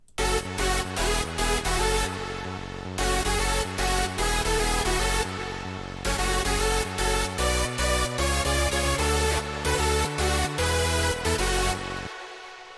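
A bright, loud hardstyle synth lead plays a driving melody over heavy pounding kicks and thick bass, with brief breaks between sections.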